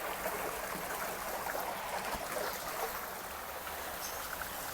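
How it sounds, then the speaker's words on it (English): Water drains out of a cichlid pond as the level is lowered, a steady soft trickling and gurgling flow that continues evenly and fairly quietly throughout, with no talking. "So I'm lowering the water in the pond."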